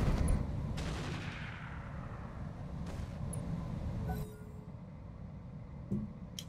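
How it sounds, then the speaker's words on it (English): Artillery from a base howitzer in the Roguetech mech game: several heavy booming impacts spaced a few seconds apart, each a broad burst over a constant low rumble, loud up close and then fading off. "Here comes the artillery."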